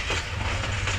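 A passing train gives a brief, steady, low rumble with a rolling wheel clatter, close and continuous.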